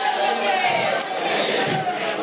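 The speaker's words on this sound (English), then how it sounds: "We give them a big round of applause as they leave the stage." A loud, continuous wash of crowd noise at a school principals' seminar in Mpumalanga, South Africa, with clapping and cheering blending into a dense roar that holds steady for a couple of seconds.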